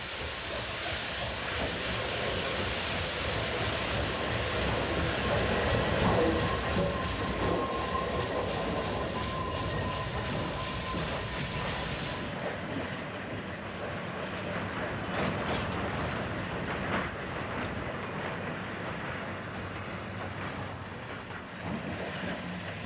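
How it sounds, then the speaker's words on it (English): A 2-6-0 Valley Malley steam locomotive rumbles steadily through a rail yard hauling a local freight train, a loud continuous roll of wheels and cars that drops to a quieter, duller rumble about halfway through. "A little 260, also known as a Valley Malley because of their ability to pull 50 to 60 cars, moves through the yards with a local freight."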